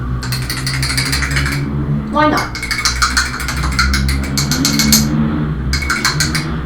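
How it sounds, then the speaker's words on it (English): Very loud motorbikes pass by outside, their engines rattling and buzzing in repeated bursts with one rising whine as a bike goes by, while a person speaks briefly nearby. "Some people going past on very, very loud motorbikes."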